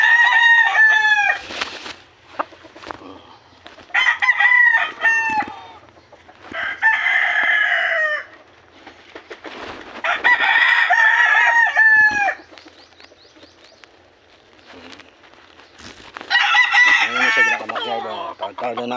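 In a backyard, a rooster crows repeatedly and loudly, close by, with chickens clucking in the gaps between the calls and faint background noise.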